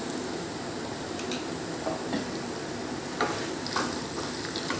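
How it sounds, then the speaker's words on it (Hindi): Cumin seeds sizzle steadily in hot oil for a moong and masoor dal tadka, a dense, close crackle with small pops scattered through it. No voices are heard. "अब हम इसमें एक चम्मच ज़ीरा वो ऐड करेंगे"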